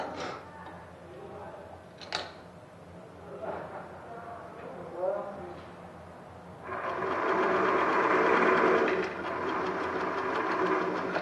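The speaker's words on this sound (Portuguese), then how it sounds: "Então, olha, só costurar." A sewing machine stitches a knit shirt, its steady buzzing run starting partway through and continuing to the end, preceded by quieter handling noises and a voice speaking.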